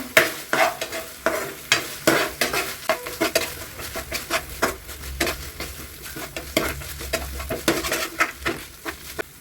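Ginger garlic paste fries in a pan for pepper chicken while a spatula scrapes and stirs in a rapid, irregular rhythm of clacks over a constant sizzle, close-up and without speech.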